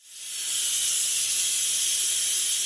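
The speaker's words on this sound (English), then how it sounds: "Now I'm going to quick release the rest of the pressure." Instant Pot vented for a quick pressure release after cooking cranberry sauce: a loud, continuous jet of hissing steam that swells in within half a second and then holds steady and close.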